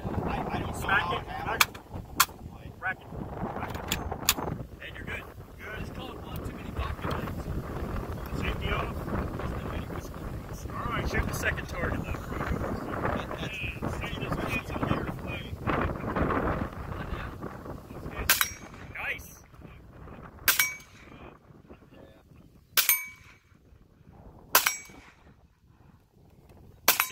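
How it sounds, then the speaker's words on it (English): Shots from an FN PS90 5.7 mm rifle at an outdoor range, sharp cracks scattered over a noisy, windy background with voices, then several loud isolated reports near the end. "he's going to let me shoot this PS90"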